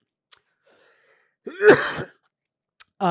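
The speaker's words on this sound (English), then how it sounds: "I'm just gonna cough for a second." A single harsh, throaty cough close to the microphone, surrounded by silence with a brief click before and after.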